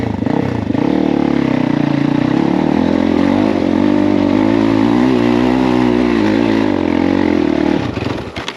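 Loud, continuous revving from a Crossfire motorcycle on a steep uphill enduro track, the engine pitch rising and wavering as it strains and falls away abruptly at the very end.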